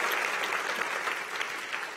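Sunday church service congregation gives a strong, continuous round of applause, steady and full throughout, with no speech standing out.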